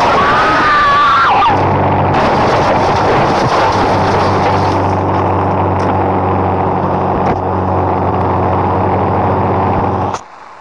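A helicopter engine in a racing video game drones steadily and loudly with a constant mechanical hum, starting after a brief whine and cutting off abruptly near the end.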